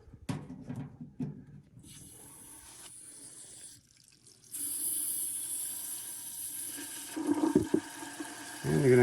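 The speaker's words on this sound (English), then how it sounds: "you're going to have some hot water going into your drain" Hot water drains from a water heater tank into a floor drain, a steady rushing, splashing flow that starts quietly and swells louder partway through, with a few clunks and handling knocks early on.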